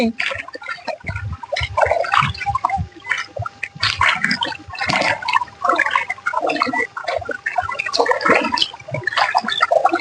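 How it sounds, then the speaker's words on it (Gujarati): Rushing floodwater after heavy rain churns steadily throughout, with voices talking over the flow and occasional splashes. "આટલું બધું પાણી આપણે પહેલી વખત આવ્યું"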